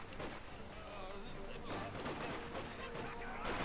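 Dense, continuous firefight from the Company of Heroes 2 battlefield, with overlapping rifle and machine-gun bursts and distant blasts rolling without pause, heavy and sustained.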